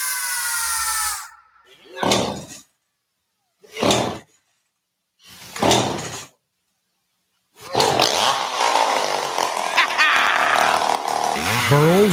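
A chainsaw in a radio ad for a chainsaw shop gives three short loud revs with silence between them, then runs on in a long, continuous roar.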